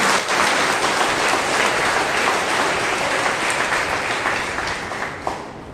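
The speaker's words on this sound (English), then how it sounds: "Let us give a big clap to the Lord once again." A congregation at a Monday prayer meeting claps in dense, loud, continuous applause that holds for several seconds before thinning slightly at the end.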